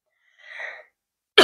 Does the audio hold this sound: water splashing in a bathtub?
no